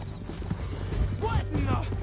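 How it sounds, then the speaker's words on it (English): Horse hooves clip-clopping in Red Dead Redemption 2, a steady rhythm of hoofbeats with an occasional whinny, heard under game music and a talking voice. "Get him on your horse. Meet the horse."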